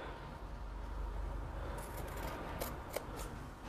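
Scissors snip through fabric while tote bag pattern pieces are cut out, a quiet, close series of short crisp cuts over soft background hiss, no voices.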